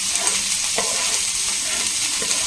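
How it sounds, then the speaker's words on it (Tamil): Chopped onions sauté in a pan for an egg omelette with green chillies, a steady loud sizzle broken by a few scraping stirs, with no talk. "ஆனியன் வந்து பார்த்திங்கன்னா இந்த மாதிரி வதக்கணும்"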